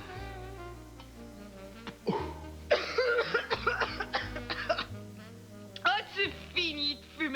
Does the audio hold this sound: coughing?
yes